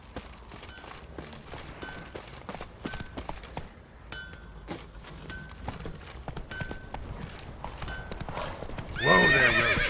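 Roach, the horse in The Witcher 3, clip-clops along at a steady walking pace under game ambience, then lets out a loud neigh near the end.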